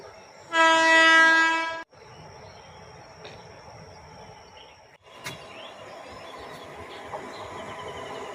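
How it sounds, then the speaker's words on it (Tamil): A train horn blasts loudly for about a second, then a rumbling main-line EMU train draws steadily closer with clanking and rolling noise, on a foggy day. "ஏத்தாப்பல நம்ம ட்ரெயின் வந்துட்டு இருக்குது பாருங்க."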